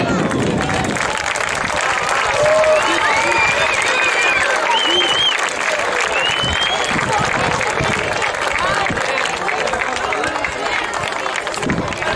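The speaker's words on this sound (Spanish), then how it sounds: "Un aplauso para ellos." Sustained crowd applause at a handball trophy ceremony, dense and steady clapping that keeps going throughout, with voices and cheering mixed in.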